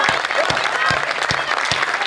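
Steady audience applause at a Hindi comedy poetry recital, dense and continuous clapping, fairly loud throughout.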